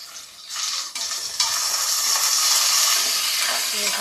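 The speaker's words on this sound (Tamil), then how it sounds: "வெங்காயம் ஒரு பக்கம் வதங்கி இருக்கேன்" Sliced onions sauté in a hot pan for hotel-style sambar rice: a steady, close broadband sizzle that grows louder after a second, with faint scraping stirs and no talk.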